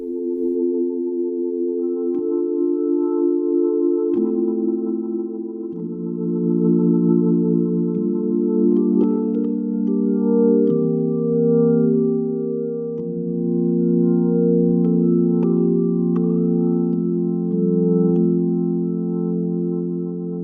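A Hammond B3 organ tone played on a Nord Stage 4 keyboard holds sustained, layered chords that shift every few seconds, a warm and steady sound heard alone.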